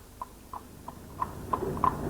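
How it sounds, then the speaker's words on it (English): Clip-clop of a horse's hooves passing along a road beside a 1987 ten-mile running race, seven evenly spaced hoofbeats growing louder and closer, with no voices. "I think maybe obscuring it now by this horse going past."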